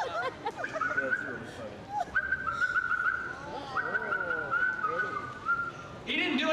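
A person whistles several sustained and sliding tones, fairly close, while a crowd murmurs and people talk in the background.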